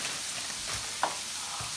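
Chicken browns in a hot pan with a steady, close, broadband sizzle. A few soft clicks and stirring sounds break through it, and no one speaks.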